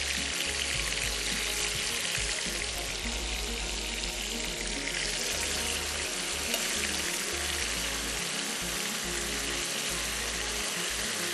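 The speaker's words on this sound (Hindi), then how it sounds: "ये जो यहाँ पे फ़िश फ्राई हो रही है" Fish frying in a pan of oil in a kitchen, a steady loud hiss and crackle of sizzling that runs unbroken throughout, close up with no talk.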